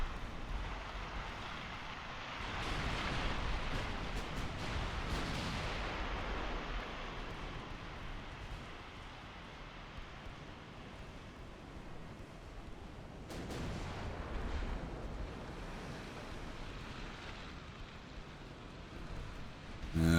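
Naval gunfire in Ultimate Admiral: Dreadnoughts, a dense rumbling wash of distant booms and explosions with swells of noise around the opening seconds and again midway, sustained and fairly muffled, with no talk.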